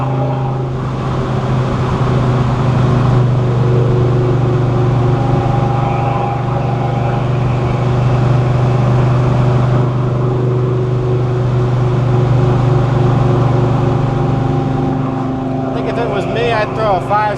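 Big-block 396 V8 in a 1969 Chevrolet Chevelle SS with a 4-speed, pulling steadily at speed on a test drive, a deep continuous drone filling the cabin with a voice talking over it.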